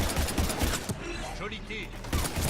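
Rapid bursts of gunfire crackle in a Mass Effect 3 firefight, dense and loud, with game voices speaking over the shooting.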